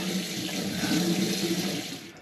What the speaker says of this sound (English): I need to wash this airlock out once again